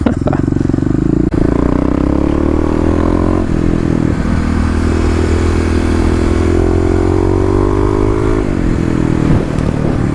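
Kawasaki KLX351 fitted with Pro Taper handlebars ridden on a road, its single-cylinder engine droning loud and close, pitch climbing through a gear and dipping briefly before rising again, with wind noise over the top.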